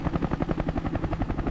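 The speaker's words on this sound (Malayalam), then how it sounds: "മസാല ഇടാൻ കേന്ദ്രത്തിൽ നിന്ന് ഹെലികോപ്റ്റർ കൊണ്ടുവന്നിട്ടുണ്ട്" A helicopter's rotor chops in a fast, steady rhythm with an engine drone beneath, loud and close throughout, in a cooking scene set in a Palakkad paddy field.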